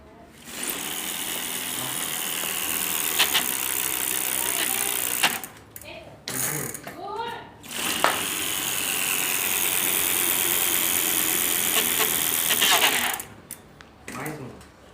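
A bike fitted with a homemade bottle exhaust makes a loud, steady rattling buzz that cuts out briefly twice before returning, close by, with someone talking over parts of it.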